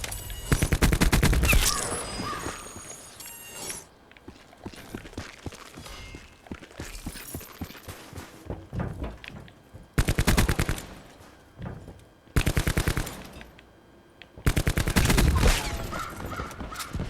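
Black Ops 4 gunfire comes in several loud bursts of rapid automatic fire, separated by quieter stretches that carry scattered single shots and footsteps.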